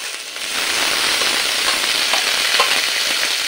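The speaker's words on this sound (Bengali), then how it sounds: "এইভাবে ডুমুর আর আলুটা একটু নেড়ে নিয়ে দিয়ে দেব" Figs and potatoes frying in a pan while being stirred, a loud dense sizzle running throughout with faint stirring clinks, close up and without speech.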